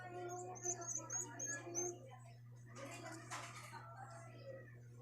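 Alimokon doves call close by in a run of soft chirps and coos lasting a couple of seconds, followed by rustling and shuffling noises over a constant low hum.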